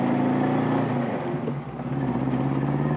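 A vintage Saab Sonett sports car drives with a steady, close engine drone and harmonic hum that dips briefly mid-way, then picks back up.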